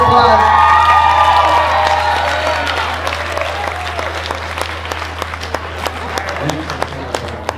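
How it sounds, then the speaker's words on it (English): A live concert crowd applauds and cheers as a singer is brought on stage, loud clapping with whoops and shouts at first that settles into scattered claps over a low steady hum. "Give her a round of applause."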